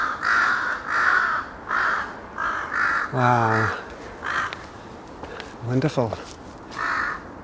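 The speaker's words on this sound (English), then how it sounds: "oh, there are crows." Crows in a forest park give several loud, harsh caws in short bursts, fairly close, with a person talking briefly between the calls.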